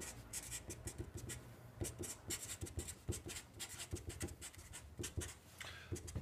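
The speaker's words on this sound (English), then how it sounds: "let me write it out" Equations written by hand during a mathematics lecture on derived categories produce quiet, irregular scratching and tapping strokes in quick bursts, close by and faint.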